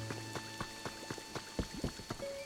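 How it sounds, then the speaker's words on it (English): Rain patters in the Pokémon Pokopia video game, soft scattered drops striking a surface at a fairly steady pace against a quiet tonal background, faint and close. "let me get you out of the rain"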